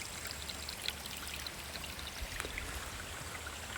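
A mountain stream flows near a waterfall on a slippery hiking trail, giving a continuous hiss of rushing water with scattered splashes, steady and moderately close, with no voices.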